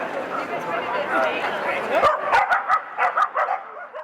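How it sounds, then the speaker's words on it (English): Corgis at a parade in Britain marking Queen Elizabeth's 70 years on the throne: a dense, busy din gives way after about two seconds to a string of sharp, close yips and barks. "holding a parade of corgi dogs, the breed favoured by the Queen."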